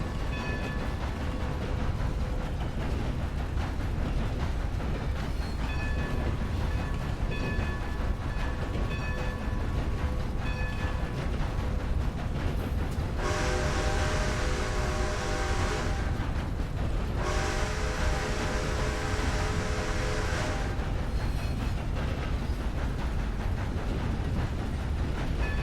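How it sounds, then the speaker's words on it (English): A steam train in a Western open-world game rumbles steadily along the rails with a continuous clattering roar, its whistle sounding twice in long sustained blasts partway through. "This train's not stopping for anybody."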